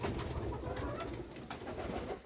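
Inside a village dovecote, pigeons give soft, murmuring coos that continue steadily under a quiet, muffled background, staying fairly distant and faint.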